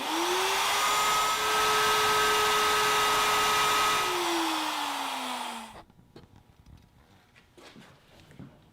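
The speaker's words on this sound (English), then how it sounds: "And now using my plunge router," A plunge router cuts a hinge mortise in a wooden board with a jig, giving a loud steady high whine that holds for about four seconds, drops in pitch as it winds down, and then stops, leaving faint shop noise.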